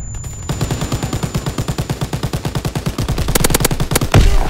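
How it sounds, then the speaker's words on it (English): A mounted turret gun fires rapid sustained bursts in Call of Duty WWII multiplayer, loud and close, with a rhythmic rattle that grows denser near the end and a heavy blast as it finishes. "Maybe I should just use these turret guns."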